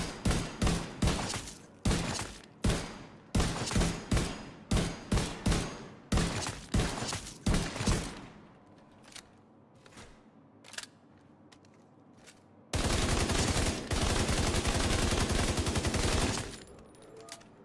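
Rapid gunfire in The Division 2, bursts of sharp shots in a quick rhythm, then a pause with scattered single shots and a final long sustained burst of automatic fire.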